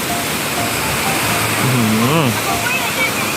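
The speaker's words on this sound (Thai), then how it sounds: "ถึงน้ำตกแล้วนะครับ" A waterfall on a cold-season trip near Kengtung gives a loud, steady, broadband rush of falling water. A voice briefly speaks over it partway through.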